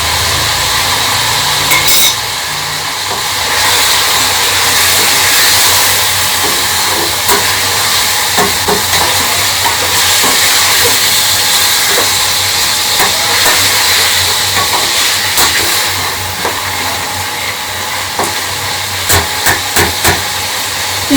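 Chicken masala fries on a high flame in a steady loud hiss of steam and sizzle, broken by occasional clanks and bursts of spattering toward the end.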